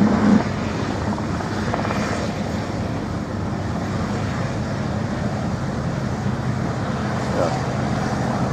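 A rescue helicopter flies over the Royal International Air Tattoo air show, its loud, steady rotor and engine drone filling the whole stretch without a break.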